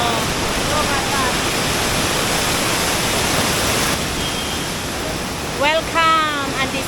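Water pours steadily over the Palasanon waterfall, a dense, continuous rushing roar that fills the scene from start to finish, with a voice speaking briefly over it near the end.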